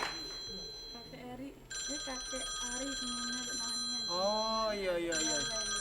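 A telephone rings during a live call-in show broadcast from a studio, its steady electronic tone repeating under a talking host and a background tune.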